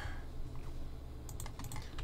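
Quick typing on a computer keyboard during a Roblox Blade Ball session, faint close key clatter with a low steady hum underneath and a burst of rapid clicks toward the end.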